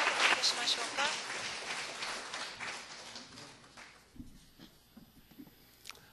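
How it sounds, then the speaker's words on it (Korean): Congregation applause welcoming a pastor at a church worship service, fairly quiet clapping that fades out after a few seconds, followed by sparse taps and a hushed room. "박수로 다시 한번 환영하겠습니다"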